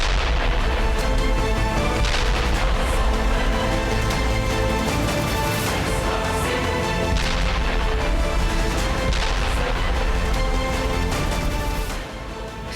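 Explosions during Israeli strikes on Iranian cities, a dense, continuous roar of blasts and booming rumble, loud and sustained throughout without a break, easing slightly at the very end.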